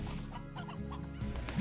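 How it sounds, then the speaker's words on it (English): Stony hens in the game Slime Rancher cluck in a steady run of close, clear bird calls over a low musical drone, with no talking. "And then we've got a whole bunch of stony hens"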